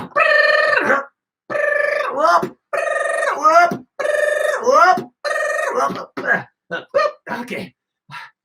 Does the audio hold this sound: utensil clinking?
no